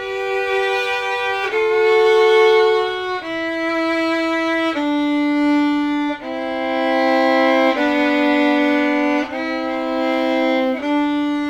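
Violas join the violins, the two sections moving downward together in sustained stepwise notes, full and resonant.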